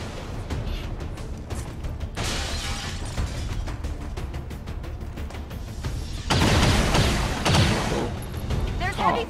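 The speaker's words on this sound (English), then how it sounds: "There's heavy fire in the zone." Rapid bursts of gunfire and explosions crackle through a firefight in the strategy game XCOM 2, dense repeated pops and blasts layered with voices, the barrage intensifying sharply in the latter part.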